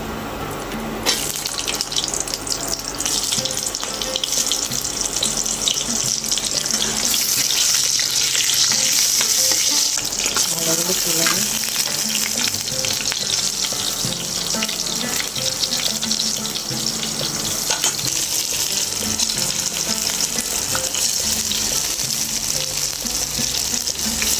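Chopped onion and tomato fry in a pan for a paneer dish, a loud, continuous close sizzle with a watery hiss that holds steady throughout.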